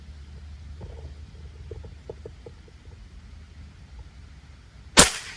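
One sharp shot from a Baretto 500 cc long-range air rifle cracks near the end after a few seconds of quiet background rumble and faint handling clicks.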